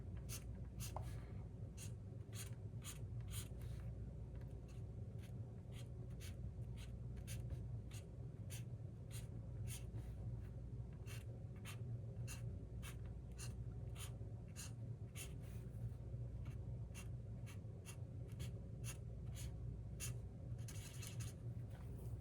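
Markers drawn across a sheet of paper during a seashell coloring craft, giving steady scratchy strokes in quick repeated bursts, close and continuous throughout with no talking.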